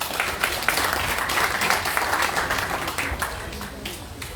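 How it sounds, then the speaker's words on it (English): Audience applause at a memorial bust unveiling ceremony, a steady wash of clapping from a seated crowd, moderately loud and sustained throughout with no speech over it. "you would have given me a louder round of applause"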